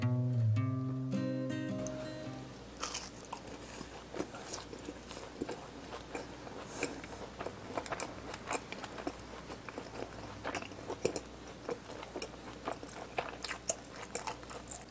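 Close, crisp crunching and biting of fried cheese balls dusted with parsley, a dense run of crackly bites and chewing that starts a few seconds in after a quiet opening.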